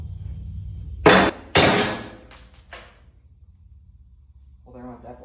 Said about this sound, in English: Well, there went that bolt.